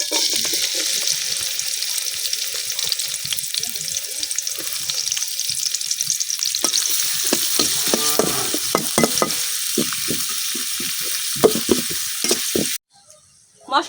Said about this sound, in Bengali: তেলটা কিন্তু গরম হয়ে গেছে এখন আমি তেলের মধ্যে দিয়ে দিতেছি হাফ পেঁয়াজ রসুন